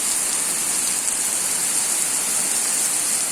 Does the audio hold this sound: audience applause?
no